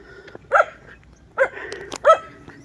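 A dog barks three times at a moderate distance, short separate barks spaced under a second apart, over a quiet outdoor background near a flood control construction site in Davao.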